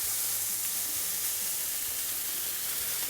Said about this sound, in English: that nice sizzling sound